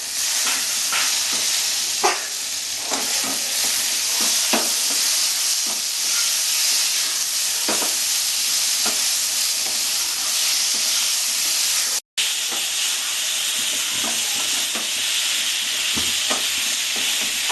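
Cumin paste and tomato sautéed together in a pan for a Bengali-style gule fish curry, giving a loud, continuous sizzle and hiss with repeated stirring scrapes, close and alone, briefly cut off once before resuming.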